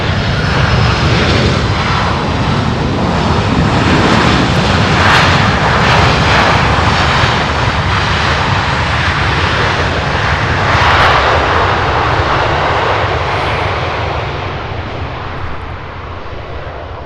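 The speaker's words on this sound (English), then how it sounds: "12-year-old 767, the final arrival, final flight of the Firefly edition of the live stream." A 12-year-old Boeing 767 jet arrives at UPS Worldport airport at night, its engines producing a loud, steady roar that fills the whole stretch and eases slightly toward the end, with no voices.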